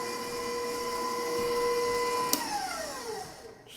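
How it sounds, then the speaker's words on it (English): A stand mixer whisks cream into homemade butter, a steady whirring motor hum with a brief clack near the end as the motor winds down and slows. "let it whisk until it turns into butter"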